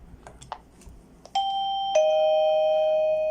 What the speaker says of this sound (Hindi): बेल का बटन दबाने से अंदर घंटी की आवाज़ भी आ रही है